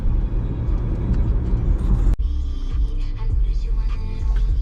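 A car interior rumbles with steady low engine and road noise while driving, broken by a brief thump partway through.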